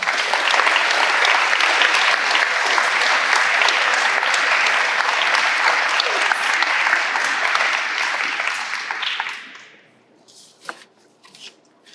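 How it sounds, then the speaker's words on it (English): An audience at an upper school awards ceremony applauds a Rensselaer Polytechnic Institute Medal recipient: loud, dense clapping that holds for about nine seconds, then tapers off into a few scattered claps. "could we please give a round of applause for the recipient of the Rensselaer Polytechnic Institute Medal"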